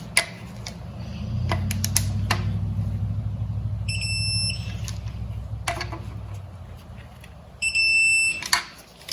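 A torque wrench tightens Toyota 4Runner 3.4L engine bolts to 20 foot-pounds, giving sharp, scattered clicks and short high beeping tones over a low background hum.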